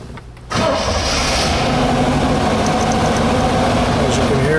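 A 1960 Chevrolet Corvette with a 3-speed cranks briefly and fires up, then settles into a loud, steady rumbling idle close by.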